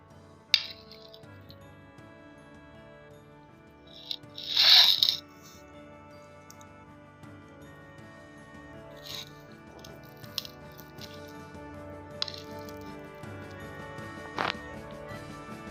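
A spoon cuts into steamed palm-fruit bhapa pitha, making faint clinks of metal on a dish and a brief soft scraping rustle in an otherwise quiet room.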